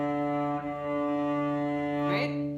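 A sustained bowed cello note drawn with too little bow pressure, sounding thin and airy with a steady tone, ending in a brief scratchy squeal near the end.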